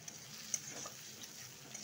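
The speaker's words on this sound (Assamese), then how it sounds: "1 মিনিটমান আমি ভাজি ল'লোঁ।" Chicken curry spices fry quietly in a pan, a soft steady sizzle with faint stirring clicks, low and close.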